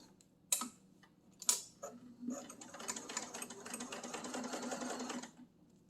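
Sewing machine stitching fabric for a jar opener with a long stitch, two sharp clicks first, then a steady fast whirring run of about three seconds that stops abruptly.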